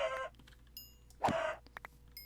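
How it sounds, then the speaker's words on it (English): Chickens clucking in Minecraft, heard as a few short, separate clucks and squawks with quiet gaps between them. "Hey, more chickens."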